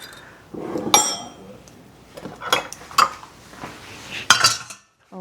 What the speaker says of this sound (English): just give this a good little whisk